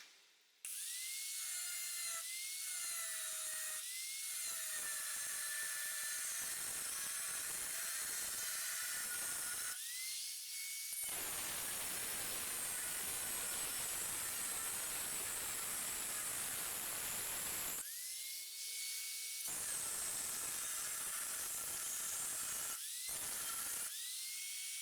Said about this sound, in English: Now we got to cut this off with a cut-off wheel.